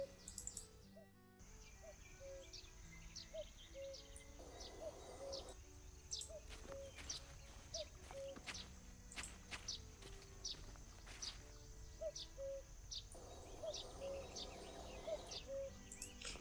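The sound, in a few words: birds and insects ambience in video game The Night of the Rabbit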